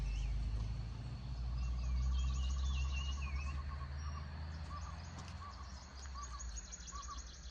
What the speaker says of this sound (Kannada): ಅಲ್ಲಿ ಪಕ್ಷಿಗಳು ಮಾತ್ರ ತುಂಬಾ ಚೆನ್ನಾಗಿ ಸೌಂಡ್ ಮಾಡ್ತಾಯಿತ್ತು.